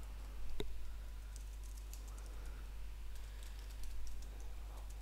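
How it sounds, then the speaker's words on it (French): Soft, irregular keystroke clicks from someone typing on a computer keyboard, faint and close against a steady low hum, with one sharper click near the start and no voices. "Tranquillement, taper le texte que je veux afin de voir."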